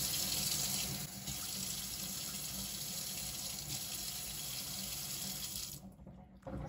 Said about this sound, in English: so I put just a little bit of water so it'll cover my pieces